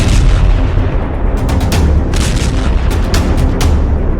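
Loud, dense booms and blasts from attack footage of a Gulf conflict, rolling low rumble with sharp bursts clustered in the middle and end, no speech.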